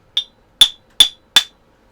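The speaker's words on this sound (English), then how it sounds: "Right, so we take the hammer" A hammer knocks a part through a Hoover Junior 1334A vacuum cleaner in four sharp, close metallic taps, evenly spaced and alone without talk.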